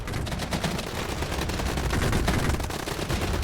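Heavy, continuous booming fire from the Regiments Cold War real-time strategy video game fills the whole stretch, loud and rumbling with rapid overlapping blasts.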